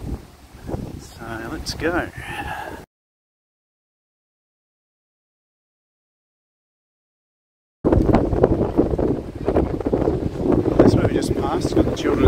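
Strong wind buffets the microphone outdoors in Perth city near Elizabeth Quay, roaring loudly under a man's speech, with a silent gap midway before the gusts return.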